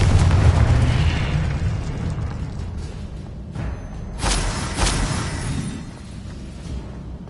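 A Confringo blasting spell explodes in Hogwarts Legacy, opening with a loud, deep boom that rumbles and fades. Two sharp bursts crack out around the middle, then the rumble settles. No voices are heard.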